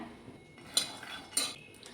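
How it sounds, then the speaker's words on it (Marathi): Peanuts being roasted in a thick kadhai, with two sharp metallic scrapes of a spatula against the pan over a faint background, no talking. "आता आपण शेंगदाणे भाजून घेऊया"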